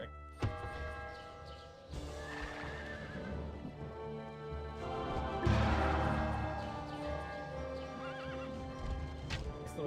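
Horse neighing loudly alongside rapid clip-clop hooves and clashing battle noise in a strategy video game, with several whinnies over a busy, continuous mix.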